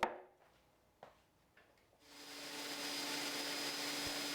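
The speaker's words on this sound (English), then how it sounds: "Going over to the miter saw to cut off the edges." A miter saw cuts the edges off a spalted maple board. A few knocks are followed by the motor whirring up into a loud, steady, close roar with a faint high whine.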